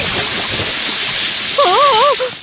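Cartoon water splashing and churning in a steady loud wash, with a short wavering warble near the end and voices faintly under it.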